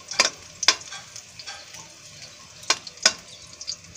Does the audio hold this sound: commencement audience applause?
no